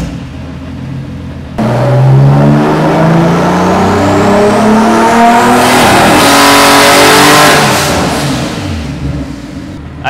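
A BMW M3 engine pulls hard under acceleration while being tuned, kicking in loudly after a short quiet start and rising steadily in pitch for several seconds before the revs ease off near the end.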